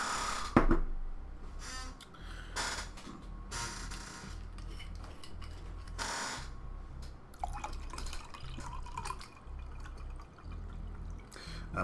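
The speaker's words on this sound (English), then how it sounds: "me pouring water into a glass next to the microphone does carry" Water poured into a glass right beside a microphone, heard as a close, bright trickle with scattered clinks and drips across the clip, over a steady low background hum.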